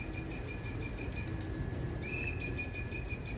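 Racing pigeons kept as stock birds in a loft, with faint chirps and soft wing rustles over a steady low background hum, moderately distant.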